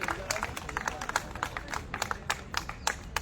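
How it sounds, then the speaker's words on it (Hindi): Scattered hand clapping from a protest crowd at Jantar Mantar, Delhi, welcoming a speaker; uneven, moderately close claps with brief gaps, no talk over it. "एक बार जोरदार तालियों से उनको स्वागत करें।"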